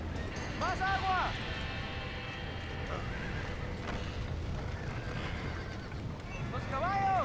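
Horses whinny twice, near and loud, at the start and end of a Red Dead Redemption scene, over a steady rumble of activity with voices talking.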